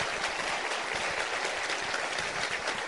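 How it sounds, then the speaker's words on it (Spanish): Steady, dense clapping from an audience at a church gathering, an even wash of applause that holds at moderate loudness throughout. "yo quiero un aplauso bien especial para ustedes"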